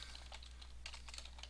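Quick, light tapping on a computer keyboard in a steady run of keystrokes, faint and close, over a constant low hum with no one talking.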